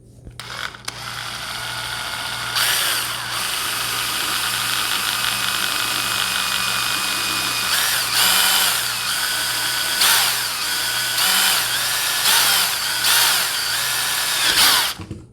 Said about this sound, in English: let's see if I can drill some holes in there without breaking this thing any further.